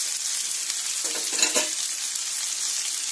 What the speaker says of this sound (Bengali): এরপরে খুব সুন্দর করে এটা খুব স্লো আঁচে এটা ভাজতে হবে